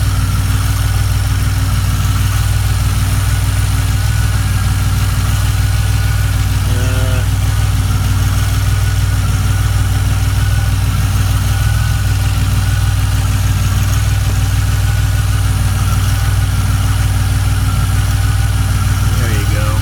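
A DeLorean engine with a lumpy, rough idle runs loud and steady up close for the whole stretch, a constant low rumble with a faint whine over it.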